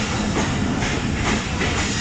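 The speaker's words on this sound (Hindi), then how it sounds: "ये मैं समासटा के प्लेटफॉर्म नंबर 3 पे पहुंच रही है 38 टाउन फरीद एक्सप्रेस" The Fareed Express passenger train pulls into platform 3 at Samasata in the rain, a loud, broad rushing roar with a rhythmic wheel clatter pulsing every half second or so, close by and without voices.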